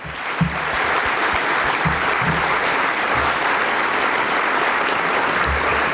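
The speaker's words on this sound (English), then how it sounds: "I'm going to get a round of applause for Chris" An audience claps for a staff member at a sports club gathering, producing loud, sustained applause that holds evenly for the whole stretch, with a few low thumps and voices underneath.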